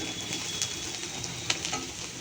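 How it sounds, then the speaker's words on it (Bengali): Fish frying in oil in a pan, a continuous crackling sizzle heard up close with a couple of light ticks and pops. "মাছটা মোটামুটি ভাজা ভাজা হয়ে এসছে আর একটু হবে"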